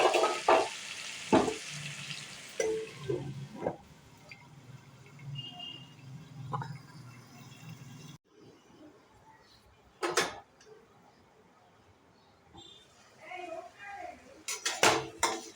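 Tomatoes cook in a pan for a fish curry, heard as scattered clinks and scrapes of a utensil against the pan with soft kitchen rustling between them, all close and fairly quiet.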